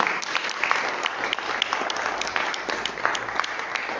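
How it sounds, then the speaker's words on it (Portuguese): A church congregation claps steadily and continuously, a dense wash of applause without voices. "Você pode aplaudir o Senhor Jesus?"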